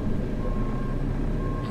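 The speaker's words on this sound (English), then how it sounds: "I may as well move this post knocker whilst I've got the JCB out" A JCB digger engine rumbles steadily nearby on a farm, a continuous low drone with a faint high tone running through it.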